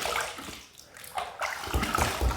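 Water splashes and sloshes close by as a face is rinsed at a sink after a safety razor shave, in uneven bursts of trickling and splashing.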